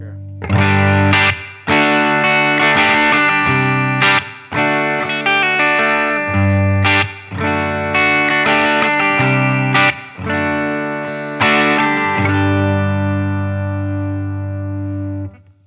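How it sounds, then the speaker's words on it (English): A Fender American Professional II Stratocaster on its bridge humbucker plays a series of bright, slightly gritty chords and short riffs, each phrase ringing before the next, ending on a long held chord. "the bridge pickup, this is on the humbucker."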